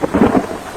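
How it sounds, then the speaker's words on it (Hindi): A thunderstorm with heavy rain in a forest, a brief loud rumble of thunder over a dense wash of rainfall. "बारिश और तूफान इतना तेज था"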